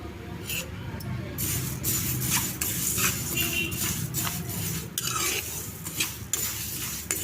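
Coriander seeds, chili seeds and cumin dry-roasting in a pan: repeated scraping stirs and rattling seeds over a faint sizzle, while people talk.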